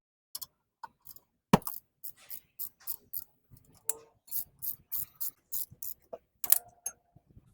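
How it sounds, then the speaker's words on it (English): An Allen wrench loosens brake caliper bolts on a Mazda 3 in a series of close, crisp ratcheting clicks and metallic taps, irregular bursts separated by short silences, with no talking. "use a 7mm Allen wrench like this to take them off"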